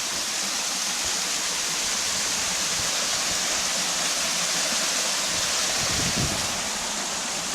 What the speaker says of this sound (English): This pool is getting filled by 3 little waterfalls.